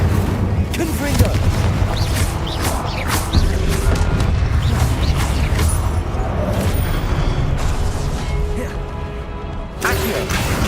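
Spell blasts in the video game Hogwarts Legacy: a dense, continuous barrage of booming explosions and crashing impacts, loud and close, with barely a pause across the whole stretch.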